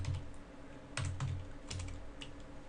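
Typing on a computer keyboard, a few soft bursts of clicking keystrokes at close range over a low background hum, with no talking.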